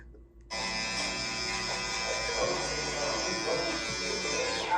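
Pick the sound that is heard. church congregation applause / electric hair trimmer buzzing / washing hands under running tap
electric hair trimmer buzzing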